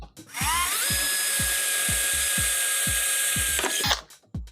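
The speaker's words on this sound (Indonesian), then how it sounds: "Oke, langsung saya bor." A power drill with a 4 mm bit whirs steadily at high speed for several seconds boring holes for motorcycle headlight fitting, then spins down, over a regular low thumping beat.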